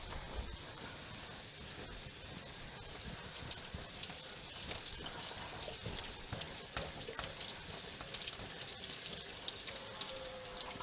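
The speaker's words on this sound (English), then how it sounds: "So I'm just going to take this over to the sink, and I'm just going to wash my lettuce." Running water from a kitchen sink faucet pours steadily over lettuce being washed, a continuous broad hiss with light splashing throughout, fairly close and without talk.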